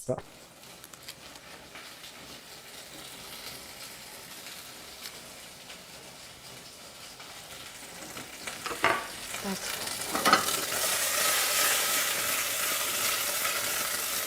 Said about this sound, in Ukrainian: помішала, потіріпала тою каструлякою